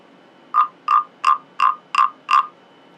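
A wooden frog scraper gives six evenly spaced, rasping croak-like strokes, each short and close, with brief gaps between them and no other sound.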